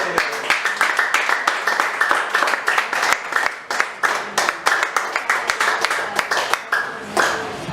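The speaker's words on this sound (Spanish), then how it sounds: "Un aplauso fuerte." Rhythmic, loud clapping from a church congregation, sharp claps landing in a quick, regular beat over a sustained background, closing with a few louder accents.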